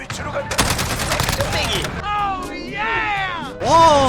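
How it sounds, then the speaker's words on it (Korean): SCAR rifle fire in the video game Modern Warfare multiplayer: a fast rapid burst of loud close shots, followed by mechanical game sounds, with a voice talking over part of it. "야 근데 스카 쏘는 맛 장난 아니다"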